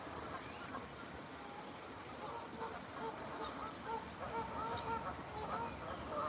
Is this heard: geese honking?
yes